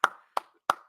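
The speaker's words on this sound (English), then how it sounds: "And the clapping that goes on for 3 minutes." Three sharp, separate hand claps spaced about a third of a second apart, crisp and close with no voices, from a film scene of applause.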